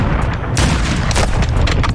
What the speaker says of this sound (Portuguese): Ataque de morteiro inimigo perto de você